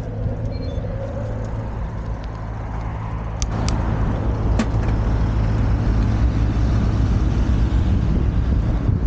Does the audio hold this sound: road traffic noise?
yes